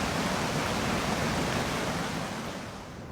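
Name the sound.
water from dam valve roaring down the valley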